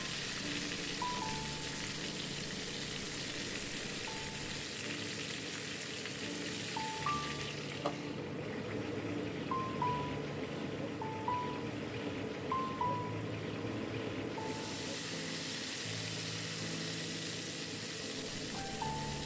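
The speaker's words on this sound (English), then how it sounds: "fry the brinjals on medium heat until it is soft enough" Brinjals frying in hot mustard oil in a pan over medium heat, giving a steady, continuous sizzle throughout with small crackles and pops on top, close and even in level.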